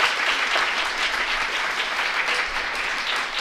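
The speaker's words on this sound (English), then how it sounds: "I'm going to give them a round of applause one more time." A school board meeting audience applauds student presenters, giving steady, even clapping from many hands that carries on for several seconds with no voices over it.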